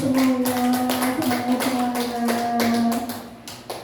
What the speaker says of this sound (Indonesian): Semangat, beri tepuk tangan